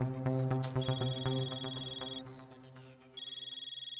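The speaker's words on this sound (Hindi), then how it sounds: "पोपट अंकल का फोन, शायद दादाजी मिल गए होंगे।" A telephone rings in a household scene from the Indian TV sitcom Taarak Mehta Ka Ooltah Chashmah, with two bursts of bright electronic trilling and a short pause between them. The rings sound over background music.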